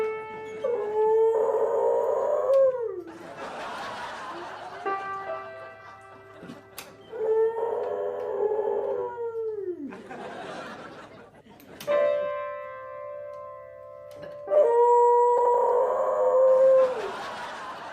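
A dog howls along to a piano, long rising and falling wails alternating with sustained piano notes and chords, repeated in several phrases over about eighteen seconds, near and clear with faint chuckling.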